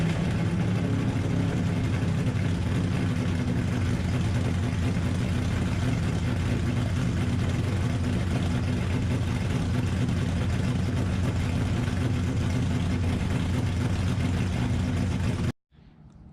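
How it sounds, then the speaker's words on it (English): A car engine idling after a cold start, a loud, steady low rumble with a slight uneven lope that continues unchanged until it cuts off abruptly near the end. "get the car started. It's probably dead right now, but that means you get to hear a cold start."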